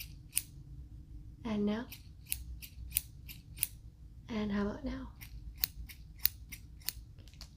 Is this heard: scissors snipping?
yes